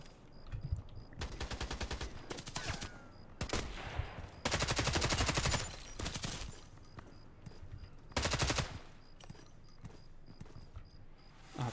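Machine gun fire in the shooter game Contract Wars on a small map, heard as several loud rapid bursts of varying length separated by quieter gaps, with no talking.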